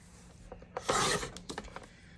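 Paper being trimmed a quarter inch down to 8 1/4 inches for a vintage Christmas mini album, a short rasping cut that peaks at about one second, with lighter scraping rubs before and after.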